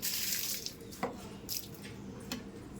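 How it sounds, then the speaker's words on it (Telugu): Running water splashes and gurgles continuously as a child pours water on a wall, with a few sharper splashy bursts, nearby and moderately loud. "నీళ్ళు కొడుతున్నావా?"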